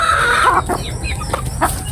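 Chickens and young chicks clucking close by in a backyard flock, a steady stream of short overlapping calls with no talk.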